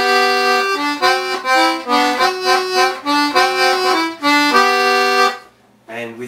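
A Hohner four-stop single-row button accordion in C, with one stop up, plays a bright, reedy melody of short, distinct notes up close, then stops abruptly near the end with a faint trailing sound.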